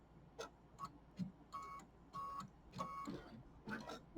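A quilting machine stitches a Kimberbell mini quilt in quiet, rhythmic bursts of clicking and whirring, with short pauses between runs.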